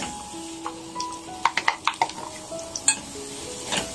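Small diced carrots tumble into a hot pan of minced meat, followed by a quick run of scraping stir strokes and light clinks against the metal over a soft, steady sizzle.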